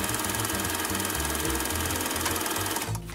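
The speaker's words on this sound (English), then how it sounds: "Only thing left to do is to sew this last side." An electric sewing machine runs steadily, stitching closed the last side of a stuffed pillow, a close, continuous whirring hum with fast mechanical rhythm that stops abruptly right at the end.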